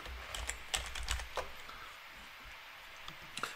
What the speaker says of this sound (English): Click the kill button